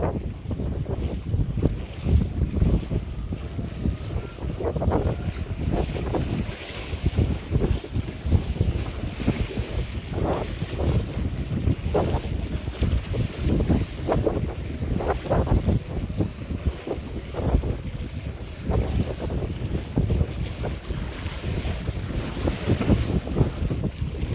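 Strong wind buffets the microphone in gusts over rushing water and the hiss of a trimaran sailing fast, with no talking.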